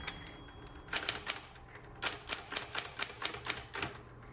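A 1960s Smith Corona Electra 210 electric typewriter tabs across the line with rapid mechanical clacks, a short burst of three, then a longer even run of about eight crisp ticks close by.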